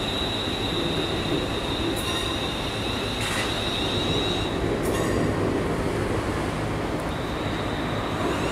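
A Merseyrail electric train runs along the line toward Liverpool South Parkway on a hot summer day. Its steady, loud rolling rumble carries a thin, high wheel squeal throughout, with a few sharper clanks as it passes close by.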